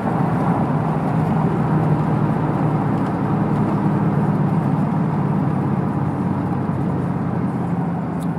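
A 2000 Chevy Silverado with a 4.8 V8 and 3-inch dual exhaust running at about three-quarter throttle, a loud, deep, steady exhaust rumble that holds without a break throughout.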